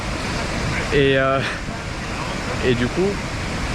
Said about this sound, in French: une cascade géante qu'on voit derrière moi comme ça